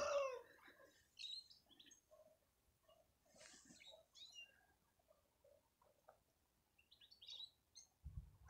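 A goldfinch sings from a tree outdoors, giving bright twittering phrases and chirps in scattered bursts. It sounds moderately distant and faint against a quiet background.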